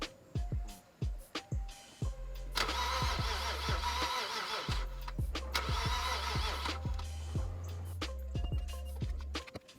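A 2008 BMW 535xi wagon's starter cranks in short bursts, then the engine catches and runs steadily close by, settling after a pause before another crank-and-start cycle with rattling mechanical clatter.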